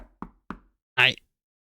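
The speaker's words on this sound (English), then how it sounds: "There's a knock at the door." Three sharp knocks sound on a door in a visual novel video game, evenly spaced and fairly close, followed by a short voiced sound.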